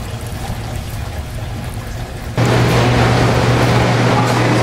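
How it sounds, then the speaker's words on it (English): Water from a leaking marine aquarium tank at a flooded house pours and splashes steadily, a dense rushing wash that suddenly grows louder and fuller halfway through and continues without talk. "The water's just leaking out of there."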